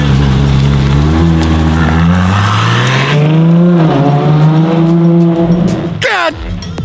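A Ferrari LaFerrari supercar engine revs loudly and close by, its pitch climbing and falling in sustained surges before a sharp sweeping whoosh near the end.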